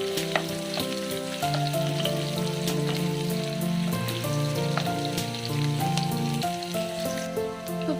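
Chopped onions fry in a pan for vegetable chowmein, giving a steady, close crackling sizzle with occasional sharp pops, while quiet background music plays underneath.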